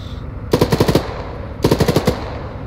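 Two bursts of automatic gunfire in the Arma 3 video game, each a rapid string of about six to eight loud, close shots, separated by roughly half a second of quiet.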